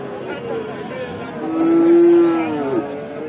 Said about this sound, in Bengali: সাইওয়াল টাইপের গরু